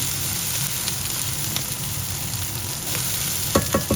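Tender octopus sautés in a pan for adobo, hissing in a steady, close sizzle with a few utensil scrapes and knocks near the end.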